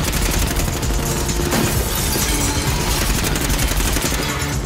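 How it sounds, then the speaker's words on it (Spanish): A pilot firing machine guns in an action film scene, a loud continuous rattling fusillade of rapid shots with booming impacts, dense and unbroken for several seconds. "El piloto continúa disparando hasta agotar las municiones."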